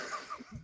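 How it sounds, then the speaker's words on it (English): A single short cough from a man, close to the microphone, abrupt and breathy, standing alone without talk. "If you can give me a good cough."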